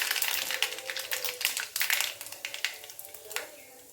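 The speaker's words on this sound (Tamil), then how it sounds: "பாருங்கள், கடுகு வந்து வெடிச்சிருச்சு." Mustard seeds popping and crackling in hot oil, a dense run of sharp crisp pops and sizzle heard close up with no talk over them.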